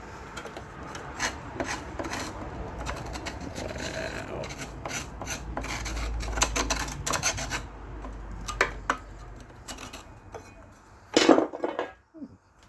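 A metal tool scrapes old gasket material off a seized Briggs and Stratton engine, giving repeated rasping strokes with light metallic clinks and a louder clatter near the end, close by with no voices.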